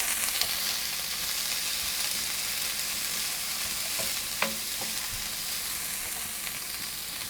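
Pimento and Scotch bonnet peppers fry in a pan for leftover jerk chicken fried rice, giving a steady close sizzle with a few light stirring clicks and no talking.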